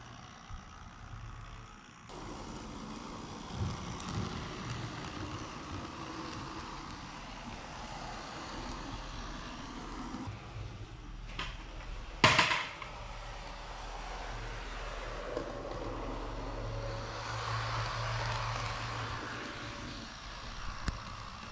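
A model train engine runs on a Woodland Scenics Grand Valley layout track, giving a steady low mechanical hum and rumble throughout, with a sharp clatter midway.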